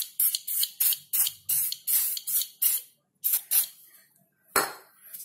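Rapid series of about a dozen short hissing aerosol bursts sprayed into the air filter box of a Yamaha Aerox scooter, evenly rhythmic and then pausing, with a final sharper burst.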